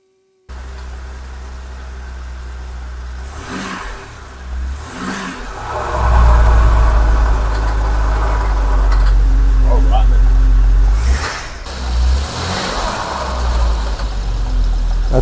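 A barn-find Jaguar XJ6 engine with a serious fault revs up loud and rough, settles, then revs again before dropping back toward an uneven idle, with voices speaking over it.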